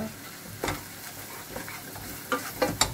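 A spoon stirs veal stock into garlic and onion frying in a pan for pork roast, giving a low steady sizzle broken by a few scraping clinks, sharper toward the end.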